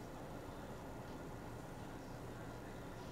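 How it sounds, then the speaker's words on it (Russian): A tram on route 12 rolls past on a Moscow street near Aviamotornaya metro, a steady broadband rumble and rail noise holding throughout at moderate distance with no voices. "12-й трамвай."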